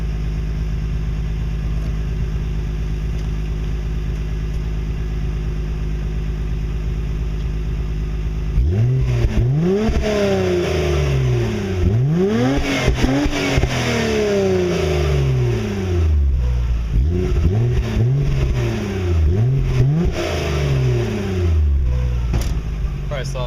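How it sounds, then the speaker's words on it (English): A Nissan Skyline GT-R drift car engine idles steadily, then is revved repeatedly in short rising and falling bursts, loud and close; the engine runs a little rich. "I'll give her a little rev, let you hear what's going on."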